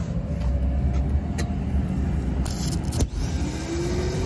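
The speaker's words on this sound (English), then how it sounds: "Starter motor going round. Obviously, it's not engaging. It's just going round and round." Car starter motor spinning without engaging: a continuous close whirring rumble with a faint whine and a few clicks, with a rising tone near the end.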